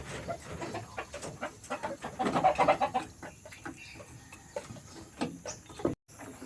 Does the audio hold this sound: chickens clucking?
yes